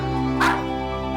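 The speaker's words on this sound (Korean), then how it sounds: "눈앞에 나타난 뽀뽀를 보자마자 여느 때와 다를 바 없이 맹렬히 짖기 시작하는 몽이" A dog gives a single sharp, loud bark over a steady tonal hum in an indoor setting.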